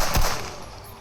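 Gunfire from the VR shooter game I Can Gun: a loud burst of one or two close shots near the start, with a ringing tail fading over the remaining second, no talking.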